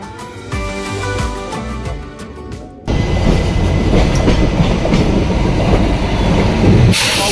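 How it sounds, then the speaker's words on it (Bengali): Bagh Express with ICF coaches behind a WP4 locomotive, running along the line: loud rattling wheel rumble, muffled at first, then suddenly much louder and close, with no talking. "অবশেষে গাড়ি ছাপড়া ঢুকছে।"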